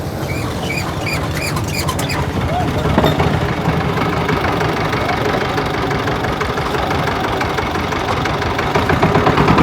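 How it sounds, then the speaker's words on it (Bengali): A small boat engine chugs steadily on the Buriganga River, close and loud with a rapid knocking rhythm, while people talk over it. "এখানে নৌকায় ছোট ইঞ্জিনও দেখতে পাচ্ছি।"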